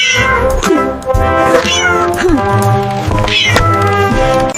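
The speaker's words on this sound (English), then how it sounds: "C is for cat." A cat meows loudly and repeatedly up close, drawn-out cries with rising and falling pitch.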